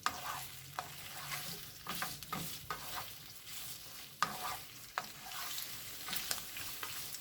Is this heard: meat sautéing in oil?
yes